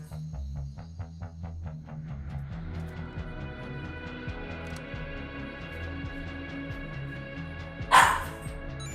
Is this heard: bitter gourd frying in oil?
no